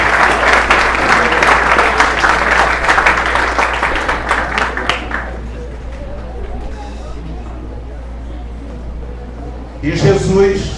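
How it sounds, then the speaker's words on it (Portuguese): A church congregation at a Sunday service applauds loudly for about five seconds, the dense clapping then fading into a quiet murmuring room before a voice or burst of sound returns near the end. "Então vamos aplaudir o Senhor pela vida das nossas mulheres."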